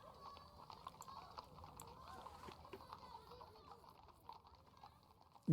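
Clip-clop of horse hooves from a stallion in the Sorcery game, soft and continuous under a faint murmur, with a brief sharp burst at the very end.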